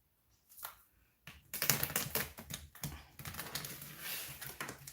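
Quick papery riffling and soft clicking bursts of tarot cards being shuffled, close up, in several short flurries.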